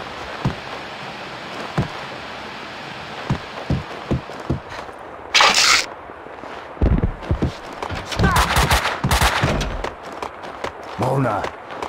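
Gunfire in the video game Max Payne 2: several sharp broadband shots and bursts come in the second half, after sparse impacts, mixed with game music and voices talking.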